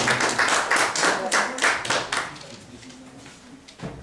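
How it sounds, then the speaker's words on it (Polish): Audience clapping at a poetry slam festival in Nowa Ruda, with loud, dense applause for the first two seconds that then thins to scattered claps and fades, with a faint voice underneath. "Zuzanna, Zuzanna, wielkie brawa dla Zuzanny, która zbliża się."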